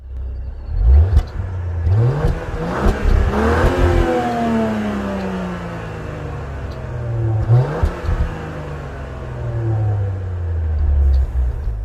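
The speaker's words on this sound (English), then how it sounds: "let's take a listen to that exhaust." A 2021 Range Rover Velar with its most powerful engine revving at the rear exhaust: several sharp throttle blips rising and falling in pitch, loud and close, each followed by an idle and a longer rev that winds down.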